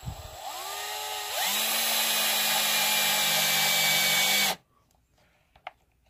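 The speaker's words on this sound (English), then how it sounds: "I took a 1/4 inch drill bit and I run it down through here like so." A power drill with a 1/4 inch bit spins up and bores steadily with a high whine for several seconds, then cuts off abruptly, leaving a few faint clicks.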